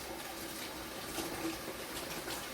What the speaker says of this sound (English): we need to wash the tomato. And we wash over here very well. Wash or rinse.